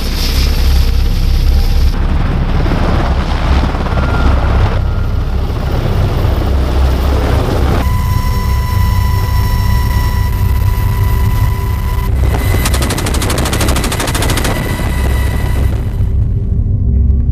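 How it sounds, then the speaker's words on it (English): A UH-60 Black Hawk helicopter flies during infantry aerial training in Bulgaria, a loud continuous rotor and turbine roar with steady whine tones that shift over time, close and dominant with no talking. "By using the UH-60 Black Hawk helicopter within the 116 Infantry Battalion mission here in Bulgaria, it allows us to deploy rapidly into otherwise treacherous terrain"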